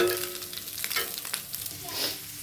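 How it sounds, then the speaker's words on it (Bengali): Onion fries in a pan with a close, continuous sizzling hiss and a few brief stirring scrapes, over a short stretch with no talking. "পেঁয়াজটা ভেজে নিব"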